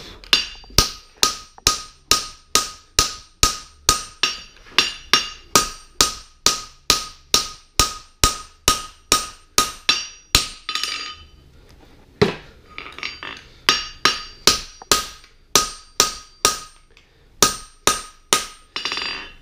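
Steady ringing hammer blows strike a steel horseshoe while fullering it, loud evenly spaced metallic clinks in a fast rhythm with a brief pause midway, no talk.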